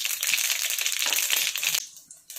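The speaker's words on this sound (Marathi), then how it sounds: "मोहरी चांगली तडतडली की जिरं" Mustard seeds crackling and popping in hot oil in a pan, a loud dense spattering that runs steadily and then abruptly drops away to a faint hiss with one last small burst.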